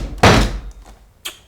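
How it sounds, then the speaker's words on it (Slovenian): A motor unit is knocked into a plastic vacuum cleaner housing during a repair of a jammed motor: one loud, close thump, followed by a fainter knock about a second later. "Malo razbijamo."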